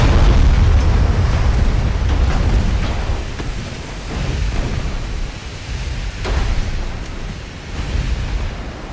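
Naval guns firing from warships in a pre-dreadnought-era battle in Ultimate Admiral: Dreadnoughts, with Russian ships in 1890: steady, heavy rumbling booms and distant blasts rolling over a continuous wash of sea noise.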